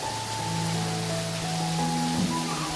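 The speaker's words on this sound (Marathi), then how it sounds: "पाऊस पण जोरात आला बघा इकडे" Heavy rain pours down in a steady, even hiss, with a faint tonal hum running underneath the downpour.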